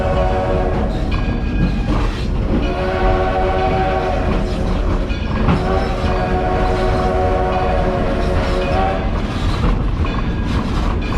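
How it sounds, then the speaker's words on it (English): A Baldwin No. 7 passenger steam locomotive pulls into a station at a historic village, its loud, close rumble and clanking wheels running steadily throughout, with tonal whistle-like sounds drifting over the mechanical din. "That passenger locomotive."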